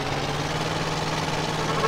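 An old van's worn engine in GTA San Andreas, patched-together and running on used cooking oil, gives off a steady droning rumble with a faint rattling vibration, continuous and fairly loud, no voices.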